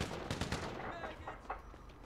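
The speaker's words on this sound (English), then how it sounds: "I don't know who he's shooting" A short burst of several quick gunshots rings out in the video game GTA V, sharp cracks clustered together at a moderate distance, with a brief voice underneath.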